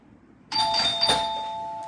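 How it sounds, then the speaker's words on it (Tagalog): A doorbell rings once in a room, a clear electronic chime that comes in suddenly, lingers and sustains to the end, with a brief thump partway through. "Grabe naman mag-doorbell yun."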